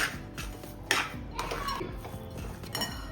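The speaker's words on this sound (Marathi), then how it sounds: "ते पण आपण याच्यामध्ये टाकून देऊया आणि छान मिक्स करून घेऊया." A spoon stirs a warm sesame-jaggery mixture with cardamom powder in a pan, giving close metallic scrapes and clinks in short uneven strokes over about three seconds.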